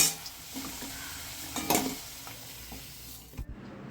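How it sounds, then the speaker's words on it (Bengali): Potatoes frying in oil with turmeric while being stirred in a pan for a Bengali cabbage dish, a steady close sizzle with scraping stir sounds and a louder burst near the middle, then it cuts off abruptly. "দেখো আলুটা আমার লাল করে ভাজা হয়ে গেছে"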